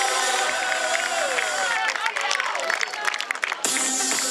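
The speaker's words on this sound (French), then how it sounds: "on l'applaudit" Crowd at the finish of the 2018 Tournefeuille half-marathon claps and cheers for an arriving female runner, a dense, steady wash of applause with voices mixed in, fairly close and loud.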